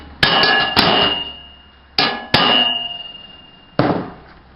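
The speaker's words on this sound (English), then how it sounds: "Again, you may have to tap it a little bit." Metal clangs ring out as MailSwing mailbox parts are tapped into place, several sharp struck hits in small clusters, each leaving a brief metallic ring that fades before the next, close and clear with no voices.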